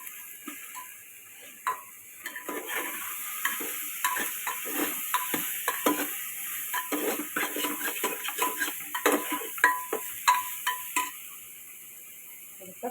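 Brinjal curry with salt, turmeric and chutney sautés in a pan, with rhythmic clinks and taps of a stirring utensil against the metal over a faint steady sizzle.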